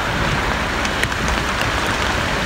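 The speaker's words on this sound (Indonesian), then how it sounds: "masih dengan keadaan hujan rintik-rintik" Light drizzle patters steadily in a broadband hiss outdoors during a rest stop on a hike, with a few faint drops tapping close by.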